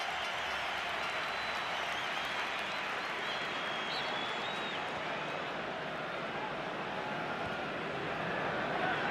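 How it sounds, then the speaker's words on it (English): Dense, steady crowd roar fills a stadium at an Atletico Madrid vs Barcelona La Liga football match, a continuous broad wash with no pauses, loud and constant throughout. "you can hear the roar from the crowd"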